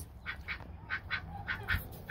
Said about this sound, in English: So, I now have baby ducks.